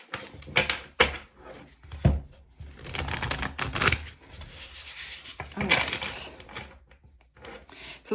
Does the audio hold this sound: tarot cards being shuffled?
yes